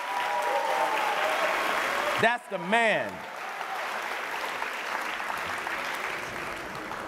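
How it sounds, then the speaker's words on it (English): Steady audience applause for a speaker at a university reading event, continuous clapping filling the room with a voice briefly speaking over it. "Give him a round of applause."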